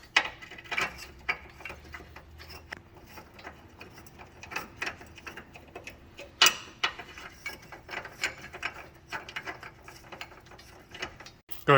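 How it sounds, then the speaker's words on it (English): A ratchet clicks in repeated quick runs while 13mm bolts are tightened on the bump stop extensions of a 1999-2004 Jeep Grand Cherokee, with scattered metallic knocks between bursts, close and fairly loud. "go right up and start bolting it in. And these are 13mm bolts."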